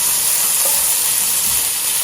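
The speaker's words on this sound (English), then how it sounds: "So we're just kind of sauteing them in here" Pre-cooked beans saute in a hot pan with a steady, close sizzle and soft hiss, continuous and unbroken, with no voices over it.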